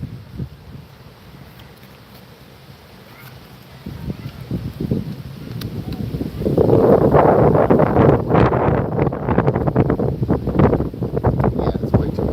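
Strong gusts buffet an outdoor microphone, a low rumbling roar that swells and grows louder midway and keeps blowing steadily to the end.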